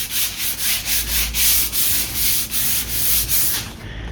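Wooden furniture with filled woodworm holes being hand-sanded with sandpaper, a steady rhythmic scratching of roughly ten even back-and-forth strokes, close and loud, with no talking.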